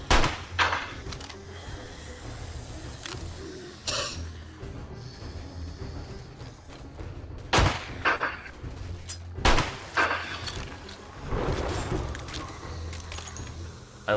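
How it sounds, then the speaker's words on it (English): Revolver in the survival game 7 Days to Die firing several sharp, spaced shots, with clicking and metallic rattling of reload mechanics between them, close and loud, no speech. "I love the reload animation for a revolver."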